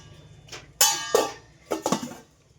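A heavy cooking pot with its lid is handled at home, giving several distinct metallic clanks and clatters in quick bursts, close and fairly loud, with no talking.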